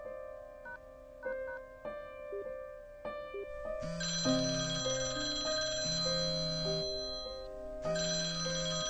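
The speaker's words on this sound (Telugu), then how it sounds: "నేను ఆయనకు ఫోన్ చేస్తాను." A phone plays a melodic electronic ringtone: short repeated chime notes at first, then a fuller, louder tune that swells and continues. No one talks over it.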